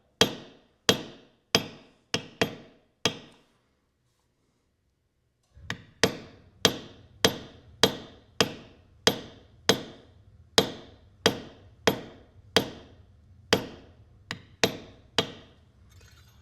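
Mallet blows drive a basket-weave stamp into burnished leather, sharp single strikes at a steady rhythm, five quick hits, a pause of silence, then a longer even run of about eighteen strikes, close and loud.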